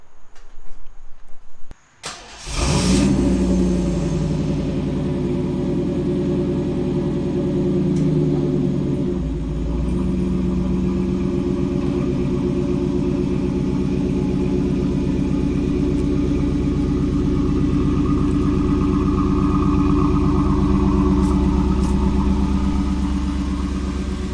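A 1991 Pontiac Firebird Trans Am starts up and drives through a neighborhood, its engine rumbling steadily and close by after a brief clatter at the start.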